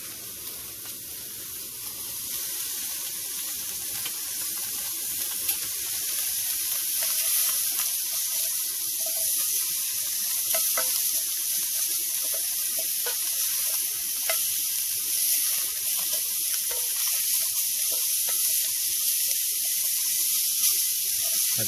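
Sausage frying in a warm pan at turned-down heat, browning on the bottom, gives a steady, close sizzle with a bright hiss and occasional small pops and scrapes, with no voices.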